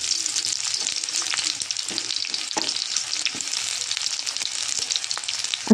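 Chopped onions fry in hot oil in a wok, making a loud, dense, hissing crackle that holds steady throughout, with a few faint clinks and a brief knock at the very end.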